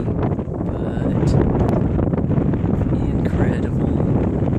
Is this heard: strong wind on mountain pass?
yes